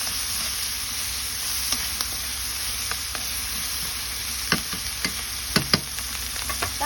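Shrimp paste (bagoong alamang) fries in a pan for Bicol Express, a constant close sizzle broken by scattered scraping taps of stirring that grow sharper and more frequent toward the end.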